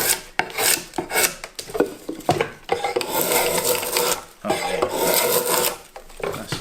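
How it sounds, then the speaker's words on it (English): A razor-sharp drawknife shaves a piece of wood in repeated rasping strokes, loud and close, each pass a rough scraping sweep separated by brief pauses, with no speech. "just done with one pass of a razor sharp draw knife"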